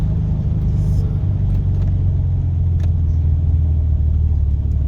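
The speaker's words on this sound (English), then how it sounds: "I am gonna take it out to test drive it" A 1983 Buick Regal on a test drive at dusk, its engine and road noise making a steady, loud low rumble from inside the car that holds even throughout.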